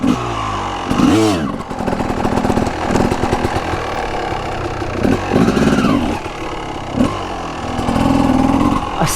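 A CR250 motorcycle engine runs steadily in a parking lot, rising into loud revving bursts several times between rough, close idle stretches.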